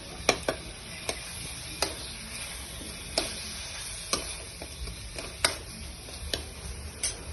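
Pav bhaji with red chilli powder is stirred in a pan, giving sharp irregular scraping clicks of the spoon against the metal over a faint steady sizzle.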